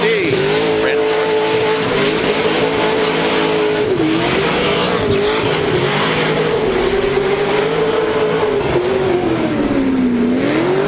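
Formula Drift BMW drift car in United States Air Force livery at Long Beach, its engine holding a loud, steady, wavering high note with tire squeal and roar throughout, dipping briefly near four seconds and again near the end.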